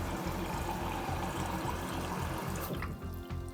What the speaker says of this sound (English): About to pour water from this Chemex into this glass.